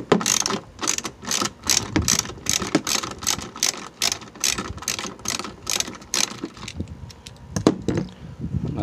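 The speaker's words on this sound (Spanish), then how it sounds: "vamos a necesitar un dadito del número 12 o una llave del número 12 y vamos a aflojar" A ratchet with a 12 mm socket loosens the tail light bolts on a 2006–2010 Ford Explorer, giving rapid close clicking bursts of the pawl in quick repeated strokes that thin out toward the end.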